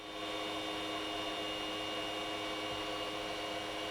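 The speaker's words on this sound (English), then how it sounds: "The print cooling fan noise was completely lost in a serenade of motor noise." Steady mechanical whirring and humming from the small motors of a Two Trees SK1 3D printer, with sustained tonal whines over a constant noise bed, running evenly throughout.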